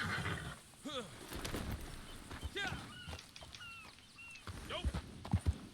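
A horse whinnies and snorts amid clopping hooves, game-like and fairly close, with someone talking over it.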